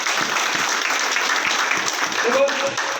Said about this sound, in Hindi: मैं चाहूंगा एक बार जोरदार तालियां हो जाए।